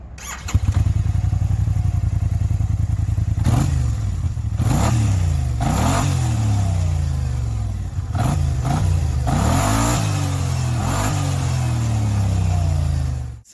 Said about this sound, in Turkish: Onun dışında size de bir egzoz sesi dinleteceğim.